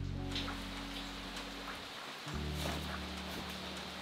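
Heavy rain pouring at a beach resort, a steady, dense hiss of falling water with scattered drop ticks and a low constant rumble, fairly quiet and continuous with no talking.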